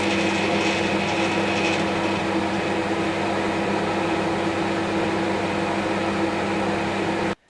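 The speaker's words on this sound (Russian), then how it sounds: "Микроволновка заработала." A steady mechanical hum with a whirring fan drone runs evenly throughout as a microwave oven heats a glass of water, then cuts off abruptly at the end.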